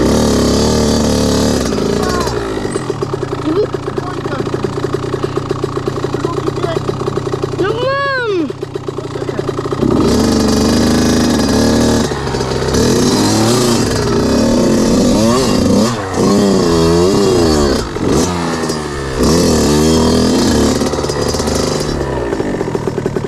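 An enduro motorcycle engine revs and drones loudly throughout, repeatedly rising and falling in pitch as the throttle is worked, close to the microphone.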